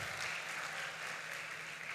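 Audience applause at a church conference session, a steady diffuse wash of many hands clapping throughout, fairly faint and distant, with no clear voices on top.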